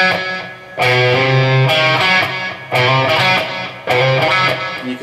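Electric guitar playing a rock riff, with repeated strummed chords and held notes, slides on the A string, an echo effect trailing off between phrases, loud and close.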